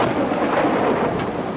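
Thunder rumbles through a heavy downpour, a steady dense roar of rain with no pause across the short stretch and no one speaking.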